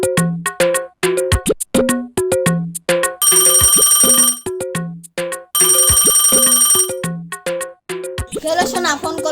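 A phone plays a loud, close, melodic ringtone in repeating tonal phrases, some of them buzzier, across the whole stretch with no talking over it.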